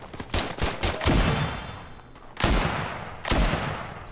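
Gunfire from the mobile shooter Standoff 2 in gun game mode: several quick bursts of sharp game shots, each followed by a lingering tail, with short pauses between volleys.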